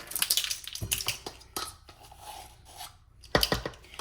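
Teaspoons clinking and scraping as baking powder is measured for cupcakes in a kitchen, irregular close metallic taps and scrapes with brief pauses, quiet and heard alone.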